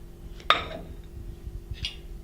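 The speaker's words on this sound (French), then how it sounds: "Je mets de l'huile d'olive dans une poêle" A frying pan being handled on a kitchen stove while olive oil goes in, with a sharp metallic clink followed later by a softer second knock against quiet background noise.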